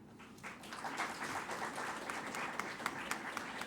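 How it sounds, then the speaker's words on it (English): Audience at a moot court competition's valedictory session applauds, a steady dense patter of many hands clapping throughout at moderate distance, fairly soft, with no talking over it. "A big round of applause for all of them."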